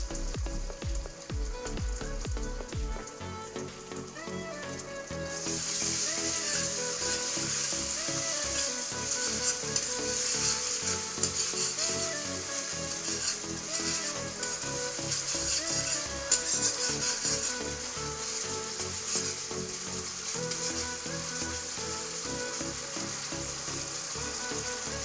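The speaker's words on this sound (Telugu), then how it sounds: "Soya sauce, green chilli sauce వేసుకుని మిక్స్ చేసుకోవాలి." Veg noodles sizzle loudly as they are stir-fried with soy sauce and green chilli sauce, a steady hissing fry with scraping and stirring that runs the whole time without voices.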